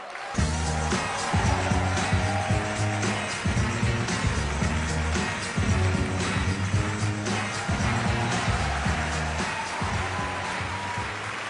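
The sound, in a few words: audience applause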